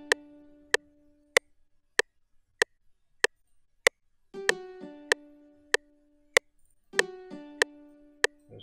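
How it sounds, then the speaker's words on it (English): A Nexus XP GT nylon Spanish guitar patch plays sparse plucked notes over a steady metronome-like click, with a few short note groups appearing midway; quiet and close, no voices. "The XP guitars, the GT nylon Spanish."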